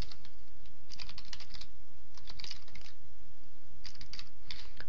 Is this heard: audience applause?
no